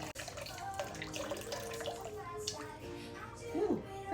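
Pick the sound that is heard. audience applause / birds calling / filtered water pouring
filtered water pouring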